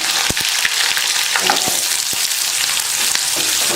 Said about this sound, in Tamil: எண்ணெய் காஞ்சிருச்சு. அதில் கடுகு உளுந்து சேர்த்துக்கலாம். கருவேப்பிலை, பச்சை மிளகாய்,